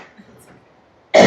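A single sharp, loud cough bursts out at the very end, after a stretch of quiet low murmuring.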